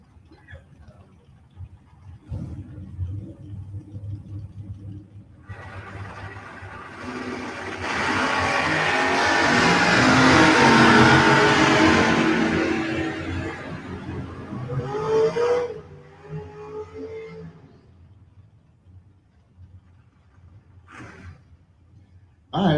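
At a drag race, a car engine revs and builds to a loud roaring pass that swells over several seconds near the middle and then recedes, with quieter engine rumble before and after.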